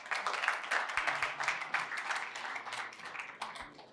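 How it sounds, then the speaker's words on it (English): Audience at a cybersecurity lecture claps steadily for about four seconds, a dense even patter of many hands at moderate volume with no voices on top. "Give yourself a round of applause."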